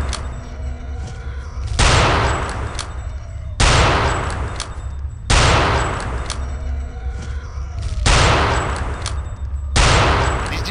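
Rapid, heavy gunfire from the World War II shooter Return to Castle Wolfenstein, coming in loud sustained bursts of about two seconds each, five of them back to back with short gaps between.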